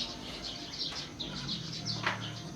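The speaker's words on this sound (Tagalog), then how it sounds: "Ang sarap pong pakinggan ng mga huni ng ibon." Small birds, house sparrows, chirp and twitter in repeated short bursts at a moderate distance, faint and continuous over a low background hum, with no one speaking.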